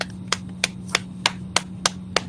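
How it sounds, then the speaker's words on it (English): A single person claps seven times in a slow, steady rhythm, each sharp clap crisp and close against a quiet low hum, marking a round of applause at a Kwanzaa celebration. "I want to give Brother Kwame a round of applause"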